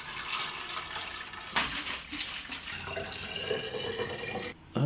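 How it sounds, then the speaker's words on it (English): Stop bath is poured from a container into a Super 8 film developing tank, a close, splashy liquid pour with gurgling and a few drips and sloshes, ending with a sharp knock. "I put the stop bath in."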